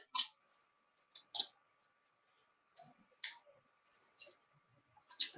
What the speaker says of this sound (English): And I shuffle, shuffle, shuffle until the right one pops up.